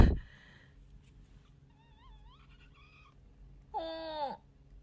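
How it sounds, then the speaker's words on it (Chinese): A kitten lets out a few short, faint wavering meows after a sharp opening knock, then one louder, longer drawn-out meow near the end, in a quiet indoor room. "小猫叫了。"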